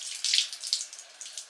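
Tap water runs into a sink while an apple is rinsed under it, a close, steady hiss and splash with uneven surges, no talking.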